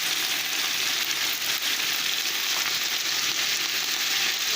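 Red and green chilies fry in hot oil in a pan of bhindi, giving an even, continuous hiss and crackle at a steady level with no talking.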